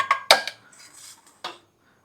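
Chili powder tipped from a bowl into a mixer jar for carrot and cauliflower pickle, heard as a few sharp clinks of bowl against jar, then a soft pouring hiss and one more clink, close and alone.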